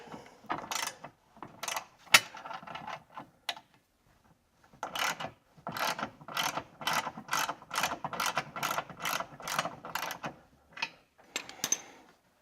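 A ratchet wrench tightens bolts on a Polaris rock slider mounted against the frame, giving rapid, close clicking runs in bursts separated by short pauses, with no talking.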